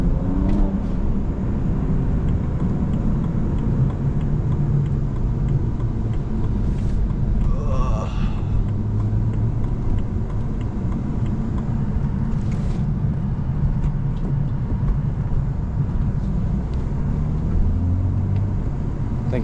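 A 400 hp BMW 335is with a manual gearbox is driven hard on back roads with the windows down, giving a loud, steady engine and road roar with wind rush throughout and brief higher-pitched swells.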